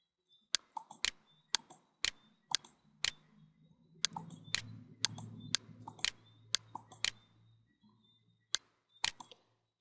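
Typing on a computer keyboard, with sharp, crisp clicks spaced irregularly and separated by short pauses, close and clear against a quiet background with no talk.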